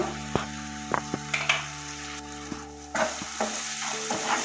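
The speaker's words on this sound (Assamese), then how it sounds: "এইকণো অকণ ভালদৰে ভাজি ল'ব লাগিব।" Tomato with turmeric fries in a pan while a spoon stirs it, the steady sizzle broken by sharp scraping strokes and clacks against the metal, close and fairly loud throughout.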